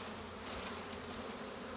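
Honey bees shaken back into a hive make a dense, steady buzzing drone at an apiary inspection in Ballachulish, quiet and continuous throughout.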